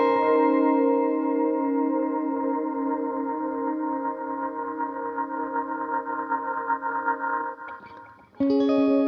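Delay feedback on a Line 6 Helix modeler self-oscillating into a loud, sustained ringing drone that wavers and swells, cuts out briefly near the end, then returns with a sharp new burst; no talking.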